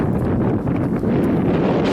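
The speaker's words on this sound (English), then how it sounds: "It's too windy." Steady, loud wind gusting across the microphone, a dense low roar that persists throughout with no pauses.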